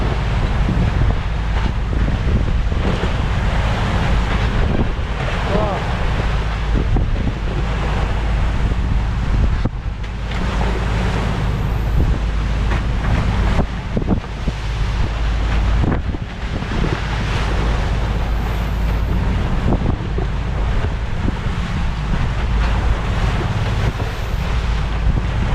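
Strong wind and crashing waves around a small boat at sea, a loud, continuous roar with heavy wind buffeting on the microphone and surging water throughout.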